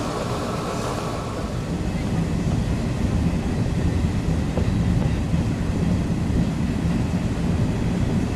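Passenger train running on the Amiens–Calais line, a steady loud rumble of wheels and carriage noise throughout, with no break in the sound.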